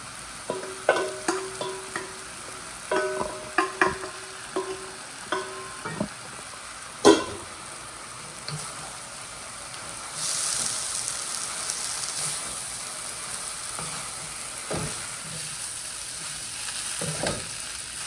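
Cooked rice stir-fried in a pan for fried rice. Sharp scraping and tapping of a utensil comes in uneven bursts, then gives way to a soft, steady sizzle that carries on to the end.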